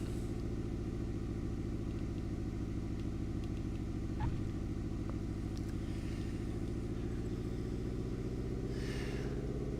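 A car driven in a flight-and-banking video game, its engine a steady mid-pitched drone with a constant rumble that holds unchanged throughout, with no talk over it.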